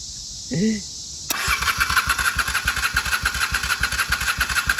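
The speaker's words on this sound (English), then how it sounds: "We're going to jump this starter solenoid and see if we can get this thing to fire." A 1995 Honda Shadow VLX 600 motorcycle is started by jumping the starter solenoid. A short voice sound comes first, then the V-twin catches and settles into a loud, close, rhythmic idle lumping steadily.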